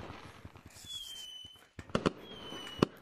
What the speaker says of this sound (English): Oh, fireworks are going off.